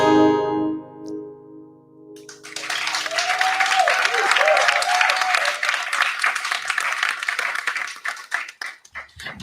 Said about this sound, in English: I just want to give another round of applause to our wonderful cast tonight